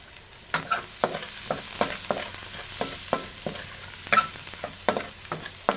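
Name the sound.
garlic frying in a pan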